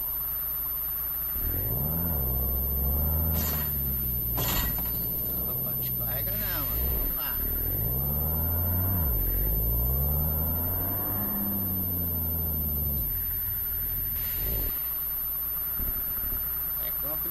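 A DAF truck loaded with cargo strains across a wooden bridge in manual gear. Its engine drones loud and steady with repeated rising and falling revs, heard throughout from near the vehicle.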